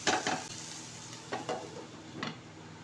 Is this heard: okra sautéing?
yes